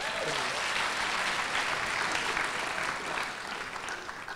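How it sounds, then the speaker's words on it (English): Audience applause fills a hackathon closing ceremony hall, a dense, steady wash of many hands clapping at full volume that eases slightly toward the end. "Let's give them another warm round of applause."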